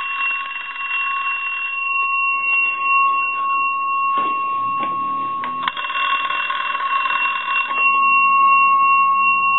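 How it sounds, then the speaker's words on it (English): A Western Electric Rotary 202 telephone rings through its bell box, a sustained metallic trilling peal that stops, resumes in short bursts, then rings on loudly and close, with no talk. "Got a very cool bell sound to it."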